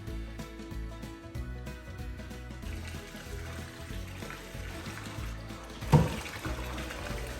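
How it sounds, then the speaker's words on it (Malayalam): Water sloshes and trickles steadily as rice for biryani is washed before soaking, under background music, with a brief louder splash near the end. "ഇനി നമുക്ക് ബുഹാരി റൈസിന് വേണ്ടിയിട്ടുള്ള അരി ഒന്ന് കഴുകിയിട്ട് ഒന്ന് സോക്ക് ചെയ്ത് വെക്കാം"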